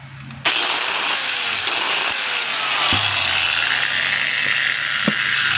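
A worn G720 power tool starts abruptly and runs with a loud, harsh grinding rattle, sustained and steady with a few sharp knocks.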